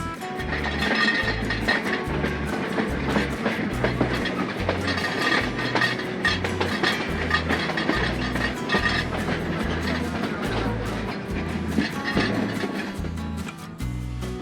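Dhumketu Express on the Dhaka to Rajshahi line runs toward Jamtail station, wheels beating a steady, loud clickety-clack rhythm over the rails with continuous rumbling carriage noise, heard from on board.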